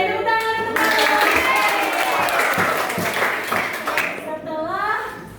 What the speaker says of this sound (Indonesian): tepuk tangan untuk Pak Guru